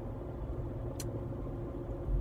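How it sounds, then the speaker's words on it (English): A car engine drones steadily at close range while driving in a low gear, with a continuous low rumble and faint transmission whine and one brief click partway through. "I can hear engine noise and uh, transmission doing it once"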